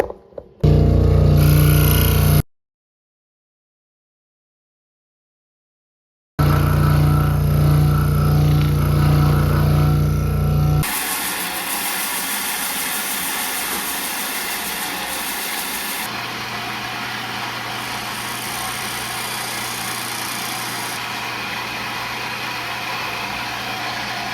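A power tool whines steadily while cutting chamfer lines into wood for a rainbow trout swimbait lure, loud and continuous, stopping for a few seconds before running again and then settling into a lower, quieter drone.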